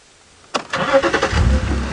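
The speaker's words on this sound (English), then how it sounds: "I just want to listen and see if I can hear the car." A safari game-drive vehicle's engine starts up close by with a sudden crank, then settles into a steady, rumbling idle.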